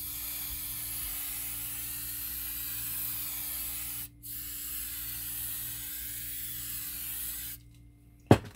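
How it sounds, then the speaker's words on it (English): Hairspray misted from an aerosol can onto model railway shrub and bush ground cover, two long steady hissing bursts close up with a short pause between them, ending in a small knock. "I'm going to put a little bit more hairspray on top here"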